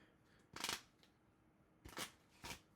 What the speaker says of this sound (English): Shuffle the discard pile, draw 3 cards from it